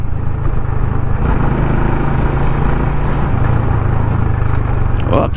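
Motorstar Zest 110 semi-automatic motorcycle on a test ride, its small engine giving a steady low drone under constant road and wind noise, with a rider's voice briefly audible.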